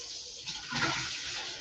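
Tap water runs into a sink, a soft rushing splash that swells in the middle and continues steadily to the end, moderately quiet and with no voices.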